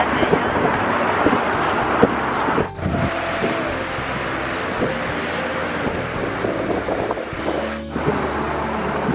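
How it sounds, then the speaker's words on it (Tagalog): Strong wind buffeting the microphone in loud rumbling gusts aboard an open-top tour bus in San Francisco, with faint background voices mixed in. "Ang hangin lang. Sobrang hangin niya."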